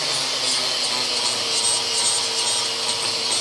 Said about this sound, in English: What I'm trying to do with the flapper wheel is get this to all be one concurrent thing, make it look like it's one piece, not like it's welded together